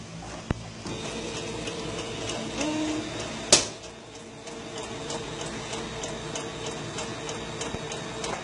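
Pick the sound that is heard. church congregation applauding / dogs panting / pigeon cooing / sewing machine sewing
sewing machine sewing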